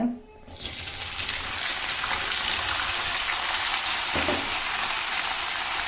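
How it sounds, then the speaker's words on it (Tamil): A loud, steady sizzle of eggplant dropped into hot oil, starting abruptly after a brief quiet moment and continuing evenly close by. "இப்போது எண்ணெய் சூடானதுமே இந்த கத்திரிக்காவை இதில் போட்டுக்கோங்க"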